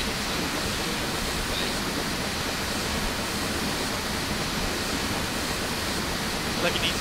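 Safety valve on a BR Standard Class 9F steam locomotive in Train Simulator 2016 on the Western Lines of Scotland blows off continuously, a loud steady hissing roar that fills the whole span without letup.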